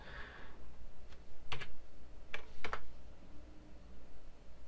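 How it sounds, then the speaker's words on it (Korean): A handful of crisp keystrokes on a computer keyboard, typing outlook.com and then pressing Enter, clicking in small clusters close by over a quiet room hum, with no one speaking. "outlook.com이라고 한번 입력을 해 보시는 거예요. 그렇게 해서 엔터를 치면"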